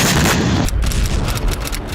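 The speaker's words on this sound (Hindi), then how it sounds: "अमेरिका का ये धमाका समंदर के अंदर 3200 फीट की गहराई पर हुआ।" A 1958 American underwater nuclear test explosion in the Marshall Islands is heard as a loud, roaring blast that cuts off abruptly and gives way to rumbling, crackling after-noise.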